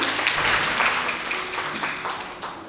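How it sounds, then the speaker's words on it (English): A room gives a round of applause for a guest speaker at a financial literacy session, with dense clapping that slowly fades toward the end. "a big round of applause for our resource person"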